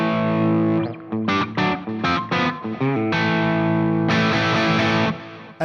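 Electric guitar played through a chorus effect in an amp's effects loop, with reverb and delay stacked on the wet signal: sustained distorted chords alternate with short choppy stabs, loud and close, ringing out into a long washed tail.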